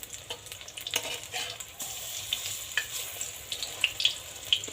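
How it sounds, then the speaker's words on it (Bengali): Slices of pointed gourd fry in a pan with a soft, steady sizzle, broken by faint scattered pops and light crackles throughout. "তারপর কিন্তু অন্য পাশটা উলট পালট করে ভাজে নিন"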